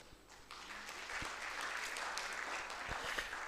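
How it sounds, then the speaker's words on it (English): Audience applause at a strategy launch and storytelling event, greeting the first woman in Africa named Director General of a CG research centre; steady, moderately loud clapping from a crowd, with a few sharp claps standing out. "Round of applause."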